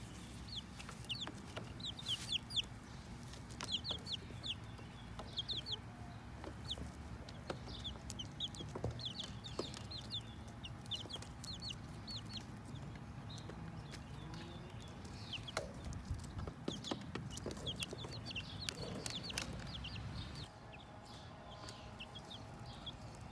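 Hens and baby chicks cluck and peep steadily throughout, with high chirps repeating close by over a constant low rumble as young chicks are put in with the older hens of a backyard flock.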